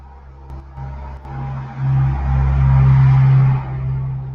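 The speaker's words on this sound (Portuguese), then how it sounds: "Só o caminhão passar aqui," Heavy truck rumbling past outside a classroom, a low engine drone that swells to a loud peak and then eases off, with no voices over it.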